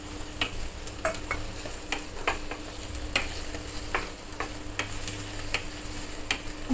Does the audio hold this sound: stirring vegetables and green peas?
yes